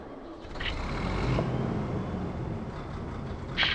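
A tractor engine in the farming video game Farming Simulator 22 runs as a low, steady rumble, joined by two short high chirps partway through and near the end.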